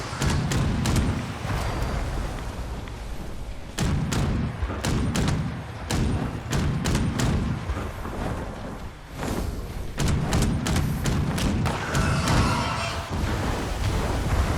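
A Furious Gatling Gun fires in the Fallout 76 video game, with repeated bursts of heavy thumping shots separated by short pauses, loud and close throughout.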